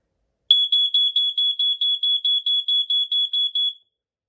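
A First Alert SA90LT ionization smoke alarm beeps in a rapid, steady series of about fourteen shrill, piercing tones, then stops abruptly.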